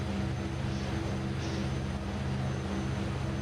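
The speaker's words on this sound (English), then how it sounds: "And I'm going to test this plane out." A steady propeller-plane engine in a flight simulator game drones continuously at moderate volume, a constant hum with no pauses.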